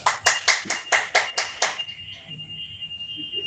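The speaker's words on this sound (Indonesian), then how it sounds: "Boleh kita berikan tepuk tangan untuk diri kita sendiri Bapak Ibu?" A group of adults at a teacher training session claps in unison, about seven loud rhythmic claps, then stops, leaving a faint lingering tone and soft room noise.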